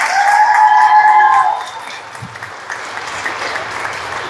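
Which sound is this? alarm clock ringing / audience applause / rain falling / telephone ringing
audience applause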